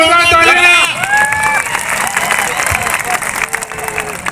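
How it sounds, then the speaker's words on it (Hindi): Crowd applause at an outdoor rally speech for World Indigenous Day in Dungarpur, with a steady dense clapping wash and crowd voices, including a loud voice and tonal sounds near the start. "जोरदार तालियां।"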